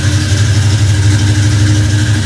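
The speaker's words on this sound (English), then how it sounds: "I'm going to have Bart go ahead and start it up." A 1967 Pontiac GTO engine runs at a steady, loud, close idle with a deep low rumble and even tone throughout, no voices over it.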